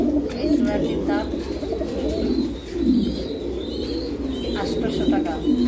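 Pigeons coo in repeated low, throaty rolls at close range, with faint higher chirps scattered in the background.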